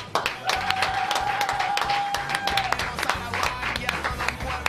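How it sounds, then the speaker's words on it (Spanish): A TV studio audience claps and applauds for several seconds, with dense, crisp claps that fill the space and a brief steady tone riding over them. "Este aplauso es para vos, Sergio."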